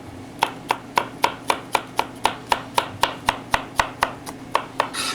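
A sharp kitchen knife chops on a cutting board in a steady, evenly spaced series of about eighteen crisp knocks, close and clear with no talking.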